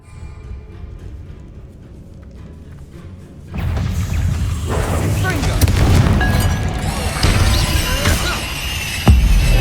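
A Bombarda blasting spell explodes in Hogwarts Legacy, a sudden loud boom after a quieter stretch, followed by rumbling debris, crashing and scattered impacts, with a sharp hit near the end.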